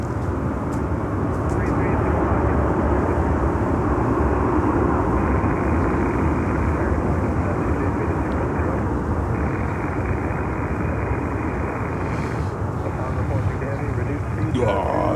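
An Atlas airliner climbs out from runway 8, its jet roar sustained and fairly loud throughout, with a person talking over the engine noise.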